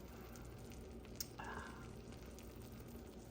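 A cornbread taco casserole fresh out of the oven bubbles and sizzles faintly, with a steady crackling simmer and a few small pops.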